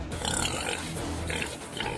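Pigs on a farm of about 150 animals grunt and squeal in a dense, noisy mass, close and continuous for a couple of seconds.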